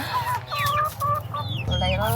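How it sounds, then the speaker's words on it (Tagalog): Several chickens cluck in close, overlapping calls with a rooster-like fowl among them, loud and busy on a farm, with a low background rumble and hum underneath. "Oh, kita man ang mga manok."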